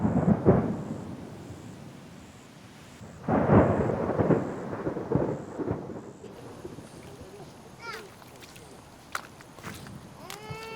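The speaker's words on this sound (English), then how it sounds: "In just a few hours, torrential rain cuts off all access." Torrential rain and thunder in southern Africa: heavy rumbling bursts roll in near the start and again around a third of the way through, over a steady wash of rain, with sharp drips and clicks later.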